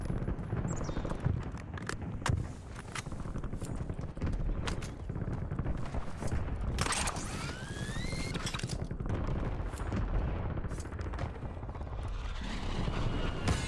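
Gunfire in the video game Warzone comes as scattered sharp shots over a dense, continuous rumble of battlefield noise, with a brief rising whine midway.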